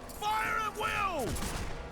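Musket volley gunfire from Empire troops in the battle game Warhammer: Mark of Chaos, a short burst of overlapping shots under a swirl of battle noise and a shouted voice.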